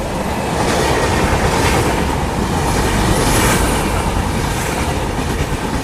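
Passenger train rolling through Anakapalli station, a loud, steady roar of wheels and carriages close by with faint clickety-clack, sustained throughout.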